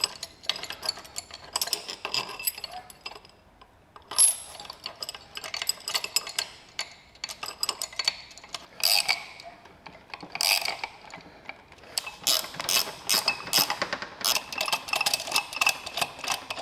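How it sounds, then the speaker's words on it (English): A ratchet turns a tap to enlarge bolt threads in the lower unit of a Johnson outboard motor, producing repeated runs of crisp clicking strokes with short pauses between them, close and clear with no talk. "I'm just making these threads bigger so I can put 3/8 inch bolts in there"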